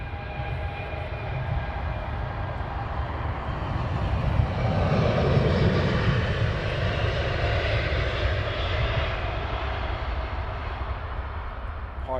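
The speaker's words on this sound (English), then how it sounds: "the A380 is going to be the next aircraft out" An Airbus A380 at London Heathrow Airport roars with a steady, loud jet engine drone that swells toward the middle and then holds a sustained, broadband rumble for about twelve seconds.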